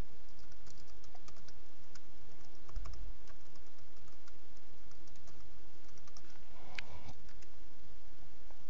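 Steady, close typing on a computer keyboard, a dense run of quick clicking keystrokes continuing throughout while signing in, with no voices.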